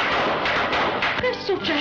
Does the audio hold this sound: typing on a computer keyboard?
no